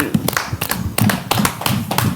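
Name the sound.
audience applause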